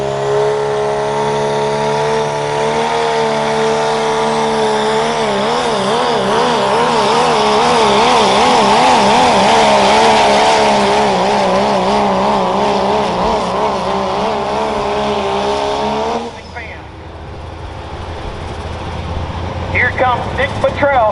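An Adam Kincaid pulling truck at the Hartford Fair truck and tractor pull roars loud and close with a sustained, wavering high-revving engine drone that cuts off abruptly, while an announcer talks over it.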